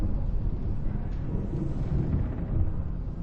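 Thunder from a storm in the game Alan Wake rolls as a deep, continuous rumble with a hiss of rain, steady and loud throughout with no talk.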